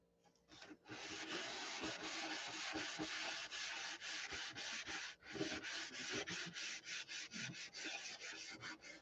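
A surface is hand sanded with 1000 grit sandpaper, close rhythmic scratchy strokes repeating steadily at a soft level, with no talking.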